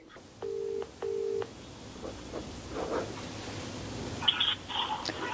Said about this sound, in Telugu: ఓకే, నేను కాల్ చేస్తాను.